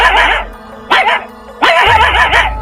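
A dog barks loudly in three long, close bursts with whimpering, yipping tones, up front and clear, in an animated moral story.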